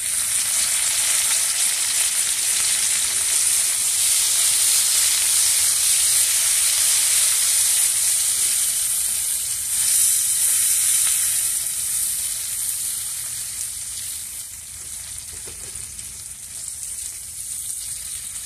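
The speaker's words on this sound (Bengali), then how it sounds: "রসুন পেঁয়াজ ভালো করে ভেজে নেব। এবার দিয়ে দিব কেটে রাখা কাঁচা ঝাল" Garlic, onion and green chili fry in oil, a loud dense sizzling hiss that runs steadily throughout and eases slightly toward the end, with faint stirring.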